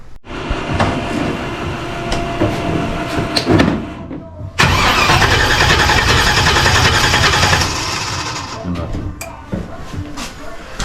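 A turbocharged Camaro engine cranks over without firing, a steady loud mechanical churning that swells midway and runs on for several seconds, with people talking around it.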